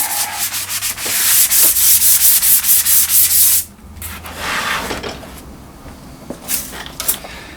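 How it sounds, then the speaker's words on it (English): Rapid, rhythmic abrasive rubbing of a sanding sponge against a corroded metal scuba tank, loud and close, then slower scrubbing strokes after a brief pause. "I don't usually use a sanding sponge on all tanks"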